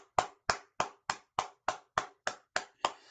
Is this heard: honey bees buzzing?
no